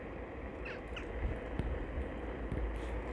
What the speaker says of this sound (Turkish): kargalar